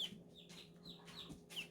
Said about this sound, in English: this is my pet duck, Charlie